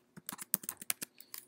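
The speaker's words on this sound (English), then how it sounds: "I'm just going to type in WP pass." Quick, uneven keystrokes on a computer keyboard as a password is entered while setting up a local WordPress install on a Mac, about a dozen close, crisp clicks with short gaps, no voices.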